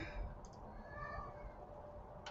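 A pet cat meows faintly indoors, a couple of drawn-out cries over a low background hum, with brief clicks at the start and end.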